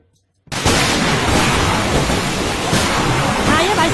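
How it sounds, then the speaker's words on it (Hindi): Heavy monsoon rain begins abruptly after a brief silence and pours down as a loud, dense, continuous roar with occasional rumbling surges, no voices heard. "बारिश बहुत तेज हो रहा है।"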